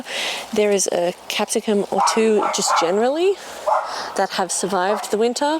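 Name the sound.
neighbourhood dogs barking outside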